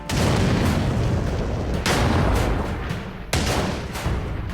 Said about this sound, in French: Rommel positionne ses canons anti-chars de 88 mm en ligne défensive et donne l'ordre de tirer sur les Matildas